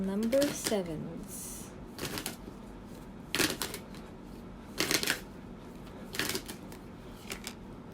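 A Moonology oracle card deck is shuffled in quick riffling bursts, several crisp rustling runs spaced a second or so apart over a quiet background.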